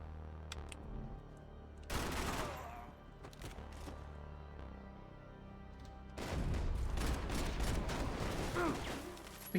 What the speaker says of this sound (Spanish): Una 9 milímetros automática. Está potente, la verdad.